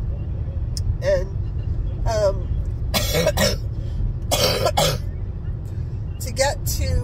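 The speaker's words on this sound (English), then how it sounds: "If you can't stand coughing, this is definitely not the video for you." A driver coughs repeatedly in a car stuck in slow traffic, several harsh bursts and throat-clearing sounds at close range over a steady low engine and road rumble.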